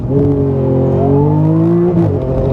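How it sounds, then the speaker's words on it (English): A Porsche 911 GT2 RS revving hard on launch control, a loud, close, steady engine roar with rising whine, then a brief dip as it shifts. "let's now do a launch control with the Porsche GT2RS"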